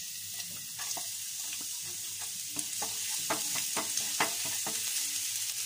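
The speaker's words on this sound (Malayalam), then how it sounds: "പാൻ വെച്ച് ചൂടായി കഴിയുമ്പോൾ നമുക്ക് ലേശം ഒലിവ് ഓയിൽ ഒഴിച്ചു കൊടുക്കാം. ഇതിലേക്ക് ചോപ്പ് ചെയ്ത് വെച്ചിരിക്കുന്ന ഗാർലിക്," Chopped garlic fries in olive oil in a hot pan while cooking penne arrabbiata. A steady, close sizzle runs throughout, with the scrape of a utensil stirring the pan now and then.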